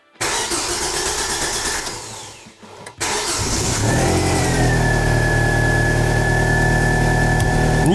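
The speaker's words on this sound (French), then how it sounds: "on va démarrer la voiture histoire de voir que tout aille bien" A car's engine cranks briefly, stalls and cranks again, then catches and settles into a steady, loud idle, shortly after an ethanol conversion kit was fitted, in a restored car that had not been driven for six years.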